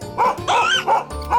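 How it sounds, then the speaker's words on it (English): A dog barking in short bursts, four quick woofs and yips in a little over a second, close and fairly loud. "That's a dog barking."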